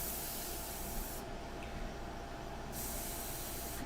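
An airbrush sprays a light India ink mixture for a portrait, giving a continuous close, even hiss of air throughout, with no voices.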